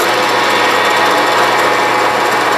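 A drill press motor runs with no load at about 1200 RPM, giving a loud, continuous mechanical whir with steady hum throughout, no speech.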